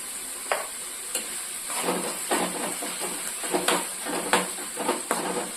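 Ground green chilli and onion are stirred in a hot pan, a constant close sizzle punctuated by a series of irregular scraping and clinking strokes against the pan, with no voices.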